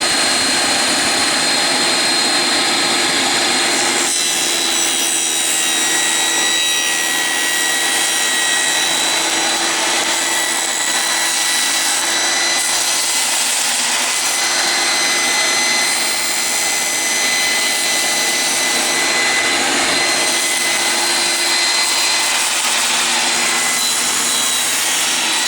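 A table saw blade, raised to its full 1.25-inch height, cuts through the wooden backstop of a crosscut sled. It makes a loud, continuous whining roar that holds steady throughout, with no speech.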